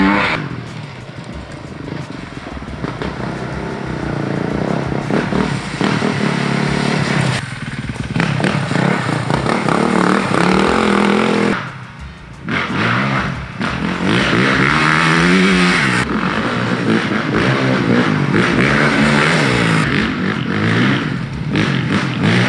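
A 2021 Honda CRF450RX dirt bike engine revs loud and close, rising and falling through repeated throttle blips with a brief dip near the middle, rough and continuous throughout.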